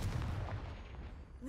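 A Confringo fire spell bursts in Hogwarts Legacy, a loud booming blast with a rumbling low-end decay, heavy and close, over a short second and a half.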